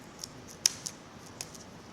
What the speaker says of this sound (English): grabbing a pair of scissors and avoiding the photograph itself, cutting along